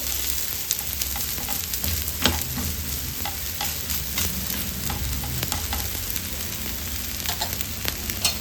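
A radish and ragi flour dosa cooks in oil on a hot pan, giving a steady close sizzle and frying crackle with scattered small pops throughout.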